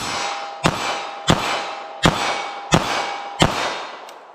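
Five sharp .380 ACP gunshots from a Ruger LCP pocket pistol firing Federal Hydra-Shok Deep ammunition, evenly spaced about two-thirds of a second apart, each a loud crack with a short ringing decay, no talking.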